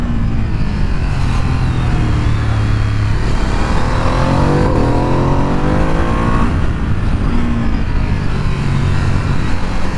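A Ducati Streetfighter V2 motorcycle being ridden, its engine droning loudly and continuously with rising and falling revs throughout, no talking.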